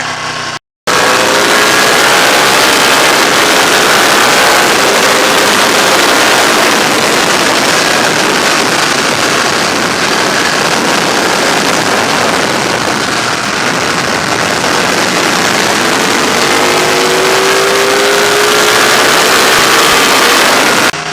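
A Ducati Panigale 1299 S engine drones loud and steady for a long stretch at about 50 mph and 3,000 rpm, with rushing wind noise and subtle pitch shifts as it holds speed.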